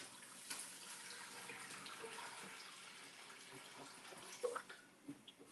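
Water runs steadily into a cooking pot during home Thanksgiving meal preparation, a continuous soft pour with a few small splashes and clinks toward the end, alone with no talking.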